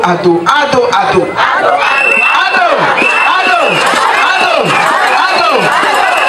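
A huge crowd of youths, women, teachers, traditional chiefs and officials at a political rally in DR Congo chants loudly in unison, rhythmic swelling calls repeating over dense close cheering.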